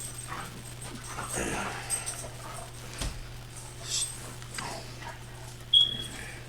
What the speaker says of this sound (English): The little dog just is so wound up and is so instinctively a herder.